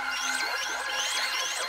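A melody runs through an Echo Boy delay effect in a beat production, its repeated notes trailing into one another with swooping, overlapping echoes at a steady moderate level.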